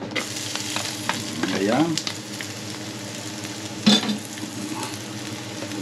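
Garlic sizzles and crackles steadily in a pan, close and loud, with occasional stirring scrapes and a brief louder clatter midway; a voice speaks briefly over the frying.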